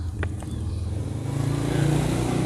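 Yamaha MT 25 motorcycle with a custom exhaust, running close by with a low, throbbing engine note that grows slightly louder over a couple of seconds.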